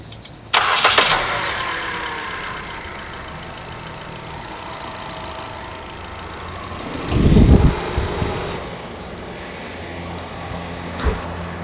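A Kia Picanto 1.1 engine idles steadily nearby with a low, even rumble, starting with a sharp knock and with a couple of brief thumps later.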